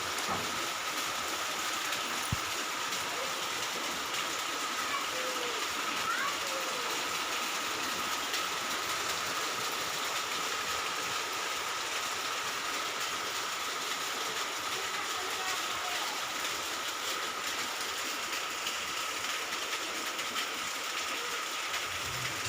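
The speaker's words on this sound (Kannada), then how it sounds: "ಮಳೆ ಆ ಸೌಂಡು ಕೇಳ್ತಾ ಇರ್ಬೋದು ನೀವು ಎಷ್ಟು ಜೋರು ಇದೆ ಅಂತ" A constant wash of heavy rain hisses evenly from start to finish, fairly faint and distant, with no voices.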